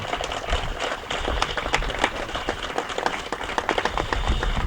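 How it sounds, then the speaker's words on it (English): Applause from an outdoor crowd at a historic bridges dedication at a campground, a dense steady clapping that carries on for several seconds with no voices over it. "So please give them a round of applause."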